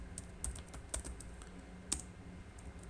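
Typing on a computer keyboard while entering text in AutoCAD, a few scattered soft key clicks close by against a faint steady hiss, with sharper taps near the start and middle.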